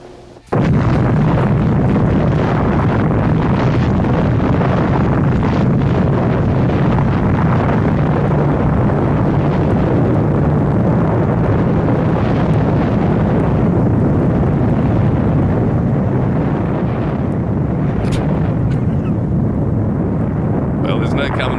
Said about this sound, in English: That's a Hollywood scale explosion, isn't it?